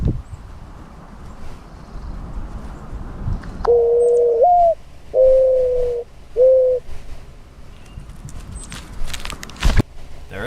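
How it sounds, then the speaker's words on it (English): A mourning dove cooing, three soft low hooting phrases, the first longest, heard fairly close against quiet outdoor background with faint rustling and a sharp knock near the end. "It's called a mourning dove. It makes that nostalgic bird sound that you guys probably know about."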